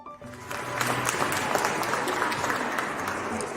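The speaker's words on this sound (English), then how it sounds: "never had a round of applause before" A round of applause at the This Can Happen Awards 2020 ceremony, steady clapping from an indoor audience that swells after a brief start and holds evenly loud throughout.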